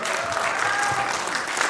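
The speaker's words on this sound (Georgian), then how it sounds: "თქვენი ბუხარი აპლოდისმენტები." Steady applause from a concert audience at a children's ensemble's year-end performance, dense and continuous clapping filling the whole moment without a break.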